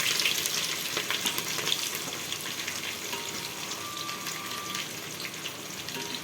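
Whole spices, green chilli and onion sizzle in hot ghee for bagara rice, making a continuous close crackling fry that eases slightly toward the end.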